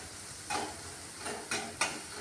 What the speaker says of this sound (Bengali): এখানে আলুগুলো ভালো করে ভাজা হয়েছে বলে প্রায় সেদ্ধ হয়ে গেছে।